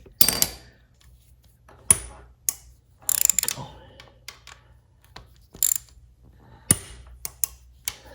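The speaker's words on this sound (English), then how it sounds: "This bolt right here is the cam chain tensioner. I'm just gonna loosen it a little bit" Ratchet clicking in short bursts while loosening the cam chain tensioner bolt on a Honda Monkey engine, close and crisp, with several sharp metallic clicks and taps separated by pauses.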